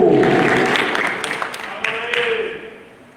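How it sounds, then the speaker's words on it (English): An audience gives a round of applause for Mokgotong and Econet Telecom Lesotho, loud, dense clapping that swells early, holds, then tapers off toward the end, with a voice briefly heard. "How about a round of applause for Mokgotong and Econet Telecom Lesotho?"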